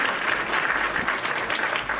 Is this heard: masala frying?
no